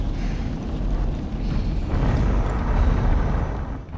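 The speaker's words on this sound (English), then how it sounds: "Coming up on second stage separation." Rocket second stage separation sound effect for a space film: a sustained, loud low-frequency rumble and roar that swells slightly midway, continuous throughout with no voices.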